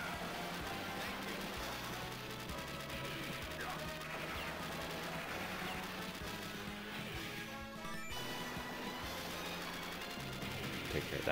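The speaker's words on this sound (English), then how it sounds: "they're like grenades and exploding balls everywhere" Grenade and landmine explosions in the Metal Slug arcade shooter come as a dense, continuous barrage of crashing blasts and impacts layered over busy game sound, steady and loud throughout.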